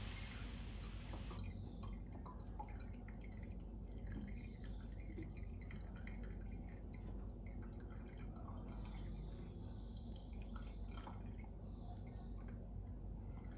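Otaheite apple drink drips and trickles through a strainer, pushed along with a spoon, as a steady close, moist patter that runs the whole time with no talk.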